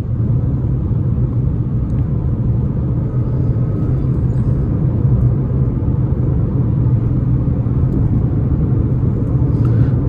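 A Jeep Compass in sport mode accelerates hard on a highway, its engine giving a steady, loud low drone mixed with road rumble inside the cabin, with no talking.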